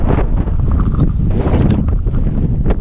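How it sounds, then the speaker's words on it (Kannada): Strong gusts of wind buffet the microphone in loud, rumbling blasts at a dam's backwater, with faint rustling underneath. "ಗಾಳಿನೂ ಅಷ್ಟೇ ಜಾಸ್ತಿ ಬೀಸ್ತಾ ಇದೆ"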